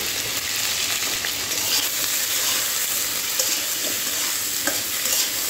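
Slit pointed gourds frying with turmeric and salt in hot oil, a loud continuous sizzle with stirring scrapes and occasional clinks, no talk.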